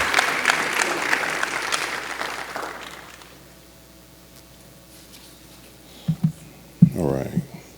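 Audience applause greets the moderator, former Councilman Eric Wilson, at a community discussion on the state of the state, loud for about three seconds and then fading away, followed by quiet and a few handling knocks.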